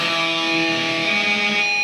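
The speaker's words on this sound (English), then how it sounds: "That raw squeal is the result of a lot of energy being trapped inside of the string." Sustained guitar pinch harmonic rings out as a steady, bright, high-pitched squeal, held evenly at full strength throughout with no talking.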